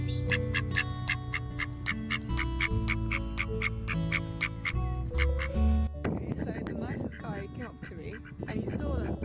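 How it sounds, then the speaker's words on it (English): Ducks quack excitedly in a lively, repeated burst of calls during a city outing in Glasgow, with music-like tones and background chatter and voices mixing in partway through. "the ducks were like going crazy for giving me something"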